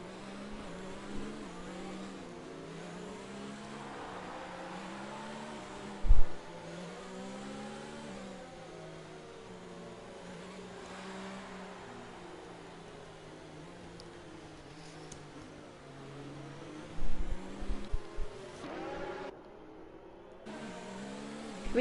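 Race car engines droning as drivers weave to heat their tyres in a US round, a continuous mid-pitched engine hum with rising and falling revs, plus a few sharp bumps, moderately distant and heard without talk.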